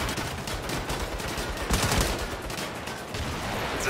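Dense, continuous gunfire in Saints Row 5, a loud rattling volley of overlapping shots that runs without pause and carries no speech.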